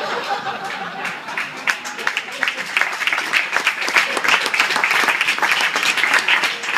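Guests at an awards dinner for the Premis Savina clap together, the applause swelling in uneven bursts and growing fuller toward the end, mixed with scattered chatter and a little laughter.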